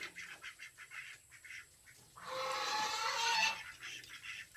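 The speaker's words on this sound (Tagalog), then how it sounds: "Nahabol na naman yung aking mga gansa ng itik. Away-away sila guys." Geese and ducks squabble nearby, a stretch of repeated honks and quacks swelling into a loud, noisy burst of overlapping calls before settling back.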